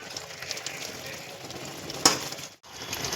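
Homemade tomato sauce in a pan hisses and bubbles under a steady stir, with one sharp clank of the spoon and a brief drop to quiet near the end.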